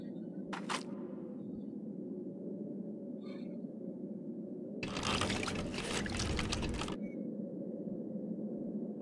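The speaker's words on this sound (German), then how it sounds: "Ich lasse ihn durch die Walzen laufen und wir sehen mal, was passiert." In a video game, clothing fed through wringer rollers squeezes out water in a gushing, splashing pour lasting about two seconds over a low steady hum, preceded by a few faint clicks.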